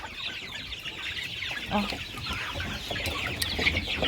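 Broiler chickens cluck and murmur softly in a flock, a busy low chatter with occasional brief louder calls, fairly close and continuous.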